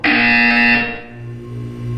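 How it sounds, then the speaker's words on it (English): Loud electronic buzzer in the Portal 2 video game, a single harsh tone lasting under a second that then drops to a low hum. "When you hear the buzzer, look up at the ceiling"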